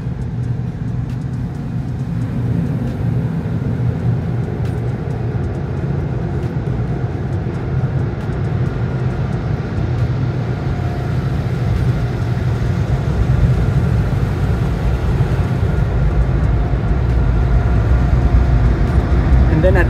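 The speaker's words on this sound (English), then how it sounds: "so that the blowers here have a chance to blow the water off these" Car wash blowers drying a Tesla Cybertruck, a steady loud rushing roar that holds throughout and grows slightly stronger toward the end, with no talk over it.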